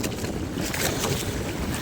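Strong typhoon wind roars steadily across open water, buffeting loudly with the rush of waves and a strong current under a fishing boat, no voices.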